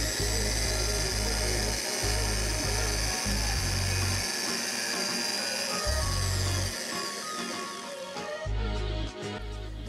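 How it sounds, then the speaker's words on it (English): A power drill runs steadily in reverse while wrap wire is pulled off a fused ribbon, a close, continuous whirring with brief dips and restarts as the trigger eases off and on. "You'll then reverse the drill while removing one of your wrap wires at the same angle that you fused it on."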